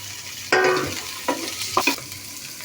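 Tomatoes stirred in a frying pan while making egg fried rice with mixed vegetables: a low sizzle runs underneath several distinct scraping stirs of a spatula, close and moderately loud, with no talking.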